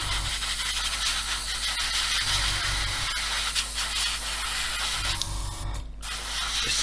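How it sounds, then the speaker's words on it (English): An Airfix 1/24 F6F-5 Hellcat model part gets a coat of spray paint: a loud, continuous close hiss that runs nearly unbroken, dipping briefly near the end, with no voices. "you'll just spray the back of it as well"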